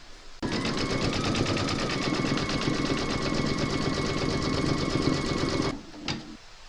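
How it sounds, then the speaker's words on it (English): An embroidery machine stitches one round of a reindeer slipper in its hoop, a steady rapid needle chatter with a constant hum running loud and unbroken for over five seconds before stopping abruptly, followed by a brief click. "Pop your hoop into your machine and stitch round number 3"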